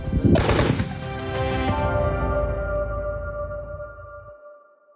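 A single loud gunshot cracks out in a frontline village in Dnipropetrovsk region, Ukraine, followed by a long ringing echo that slowly fades away; no voices.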